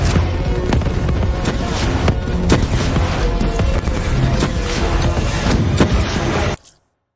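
Loud, continuous gunfire and booming blasts in a Call of Duty Black Ops 3 battle, dense rapid shots with no pause for over six seconds before cutting off abruptly.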